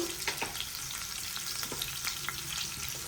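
Close, steady frying hiss in a pan for egg curry, a dense continuous sizzle with faint pops and no voices.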